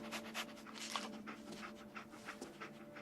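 Dog panting in the video game Fallout 4, a steady run of quick breathy pants close up over a low game-ambience hum with faint background tones.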